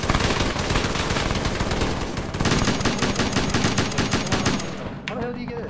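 Sustained automatic gunfire in a military video game, loud bursts of machine-gun fire and rapid shots running almost continuously, with a brief voice under the din.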